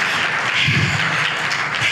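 Congregation applause at a church healing service, a short burst of dense, continuous clapping from many hands filling the space.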